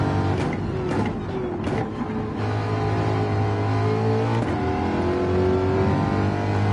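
A race car engine in a racing video game accelerates hard, a loud, close revving drone that climbs through gear changes with brief throttle lifts, sounding on its own without talk.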